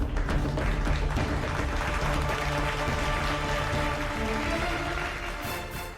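U.S. lawmakers applaud Zelensky in the American Congress, standing as they clap; sustained, loud, continuous applause from a large chamber audience with a tonal hum beneath.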